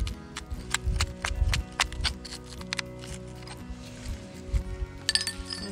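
Metal chisel chipping at rock while collecting calcite and quartz crystals at an Arizona site: a run of sharp, close clinks and taps striking in irregular bursts, loudest early on, with a faint bright scrape near the end.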